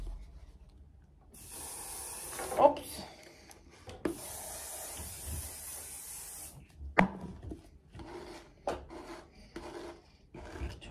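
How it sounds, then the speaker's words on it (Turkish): Bursts of hair spray hiss out in a few separate pulses, with soft rubbing and handling noises between them, close and fairly quiet. "böyle topladıktan sonra şöyle bir sprey var"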